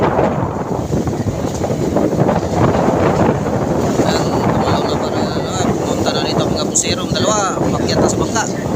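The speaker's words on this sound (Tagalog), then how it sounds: "masyadong malakas ang habagat." Strong southwest monsoon wind gusts across the open sea near a boat, roaring and buffeting the microphone in a continuous loud rush while people talk over it.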